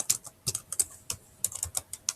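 Keys clatter on a computer keyboard while writing a Google Docs document, a dozen crisp, close keystrokes in uneven quick runs with brief pauses and no talking.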